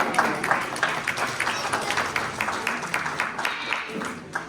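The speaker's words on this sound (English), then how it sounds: "Give them a round of applause." An audience at a Chabad community evening for Israel applauds a group of boys after their performance, a steady patter of many hands clapping at moderate distance for several seconds, with a faint voice mixed in.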